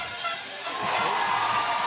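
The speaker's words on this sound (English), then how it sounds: "as the Wellington College crowd try their best to put them off" Wellington College school crowd at a rugby final trying to put off the kicker, a sustained roar of massed voices and shouting that swells slightly, fairly loud and close.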